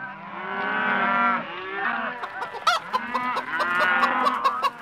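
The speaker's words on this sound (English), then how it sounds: "we were rounding up the cattle and the chickens. I can still hear them now." Cattle moo in long, loud, close calls over a farm soundscape built for a radio drama, joined by honking fowl and a burst of sharp clucking and squawking chicken cries toward the end, with no talk.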